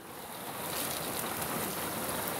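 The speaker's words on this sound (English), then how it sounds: "Raining like crazy and the sun is out." Rain shower falling steadily during a windy, sunny afternoon in Earp, California, a dense continuous hiss of drops close by with no voices.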